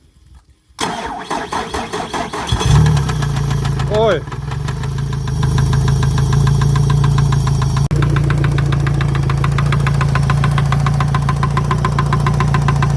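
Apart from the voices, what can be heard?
Yamaha F150 boat motor starting and running with an odd knocking sound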